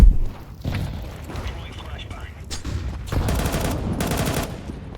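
Gunfire in Counter-Strike 2 comes as loud bursts of rapid automatic shots, with a heavy hit at the start and clustered volleys later, alongside in-game footsteps and thuds.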